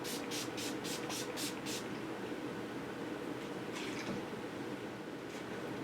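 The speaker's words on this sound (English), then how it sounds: "now I'm going to just spray the Urban Decay All Nighter Makeup Spray." Urban Decay All Nighter makeup setting spray misted in six quick, evenly spaced puffs at the start, over a steady hiss of background noise, followed by a few fainter spray bursts later.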